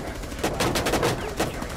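Gunfire in Rainbow Six Siege sounds as a quick burst of several sharp rapid shots over about a second, loud and close, with faint game background sound behind it.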